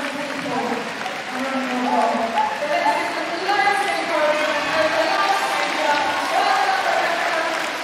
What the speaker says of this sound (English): Big crowd here encouraging the dog all the way round.